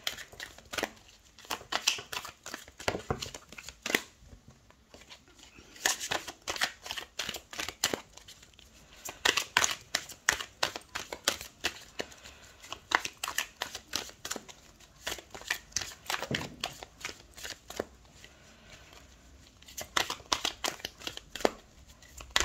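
Tarot cards are shuffled continuously, a dense run of crisp papery riffles and slaps close by, with no talking.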